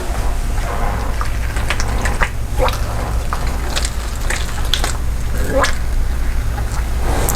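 Water trickles and splashes onto damp paper towels laid in small containers for a seed germination test, in irregular short bursts close by over a constant low hum.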